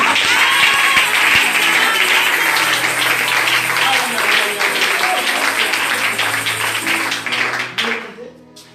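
A church congregation applauds and cheers at a prophet's gathering, with dense, sustained clapping and voices mixed in. The applause fades out near the end.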